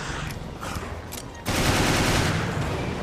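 Rapid automatic gunfire rattles in Resident Evil Revelations Abyss Raid Mode, a dense burst of shots that suddenly grows louder and more continuous partway through, close and harsh with no talk.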